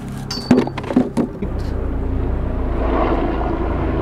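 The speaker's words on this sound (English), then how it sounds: "That's a helicopter in the background." A helicopter flies over a fishing pier, giving a steady, throbbing engine drone. It swells in after a few sharp clinks at the start and holds moderately loud to the end.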